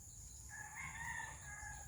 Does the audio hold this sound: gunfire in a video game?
no